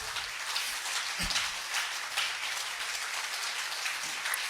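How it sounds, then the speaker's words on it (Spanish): A church congregation applauds during a worship service, producing a soft, dense, rain-like patter of clapping that stays even and fairly distant. "¿Le puede dar un fuerte aplauso a Jesús?"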